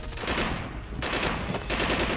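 Rapid gunfire exchanged between troops along the Line of Control, with dense machine-gun bursts rattling continuously and loudly, full and unbroken throughout with no pauses.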